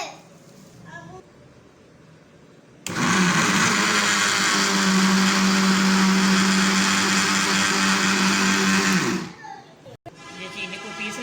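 A mixer grinder whirs loudly as it pulverizes sugar for cake rusk, starting abruptly, running at a steady high-pitched roar for about six seconds, then stopping, with quieter kitchen sounds before and after.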